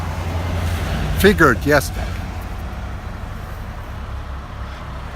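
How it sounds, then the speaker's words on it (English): A car sweeps past on a busy road behind a roadside spot, a brief rising and falling whoosh over steady traffic rumble, with a short spoken reply nearby. "there's a car going past us on the back behind us every few seconds almost"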